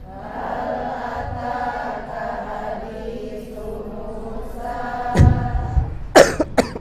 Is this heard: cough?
yes